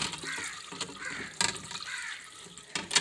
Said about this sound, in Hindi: नमाज का मुंह हाथ धो रहे हो?